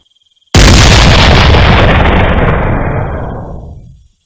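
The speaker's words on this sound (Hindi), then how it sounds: "अगले ही पल कान फाड़ देने वाला एक तेज धमाका हुआ।" A single deafening explosion in an audio drama, a cannon blast fired from a window, bursting suddenly after a moment of silence and rumbling broadly before fading out over several seconds.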